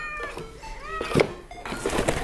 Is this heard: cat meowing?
yes